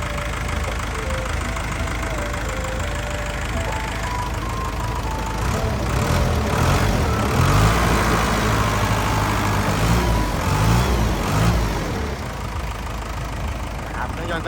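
A Komatsu WA100-5 wheel loader's diesel engine rumbles steadily nearby with a low knocking idle, getting louder for a few seconds in the middle before settling back.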